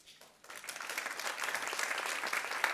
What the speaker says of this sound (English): can I get a big round of applause for Larissa van der Veen?